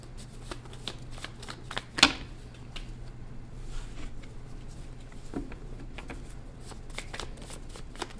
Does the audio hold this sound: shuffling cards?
yes